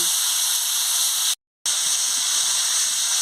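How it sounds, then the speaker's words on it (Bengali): Cauliflower pieces being stirred and fried in hot oil produce a dense, steady sizzle up close, cut by a brief moment of total silence before the hiss resumes unchanged. "আমি ফুলকপিটাকে কেমন মারছি, ভালো করে একটু ভেজে নিচ্ছি।"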